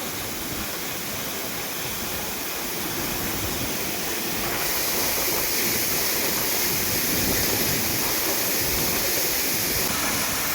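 A loud, constant roar of falling water, like a waterfall heard up close, filling the whole clip without pause.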